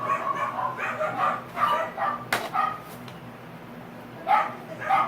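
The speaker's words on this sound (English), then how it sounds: "Fucking Christ, those dogs." Dogs bark in repeated short bursts at a moderate distance, with yips and a pause before a final volley.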